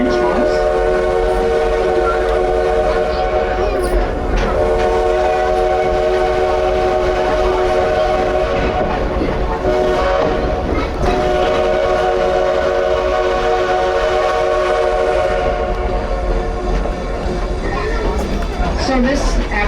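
A passenger train runs steadily for the whole stretch, with a sustained horn sounding over loud, continuous rumble of rolling cars; a voice talks faintly underneath.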